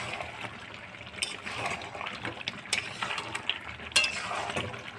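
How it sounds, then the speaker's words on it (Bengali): Water poured into a pot of chicken and potatoes being cooked down with spices, a steady wet rush and trickle over faint sizzling, with a few sharper splashes and clinks of a utensil, fairly close and alone. "এবার জল দিয়ে দেবো।"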